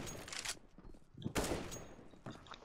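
Rapid gunfire bursts in the game CS:GO, two loud volleys separated by a brief lull, with a third shorter burst near the end and no talk over them.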